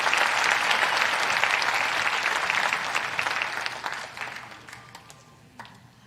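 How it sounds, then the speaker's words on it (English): Loud, sustained applause from a concert audience for a middle school band at a Christmas concert, a dense roar of clapping that tapers off and fades to a few scattered claps. "Give them one more round of applause"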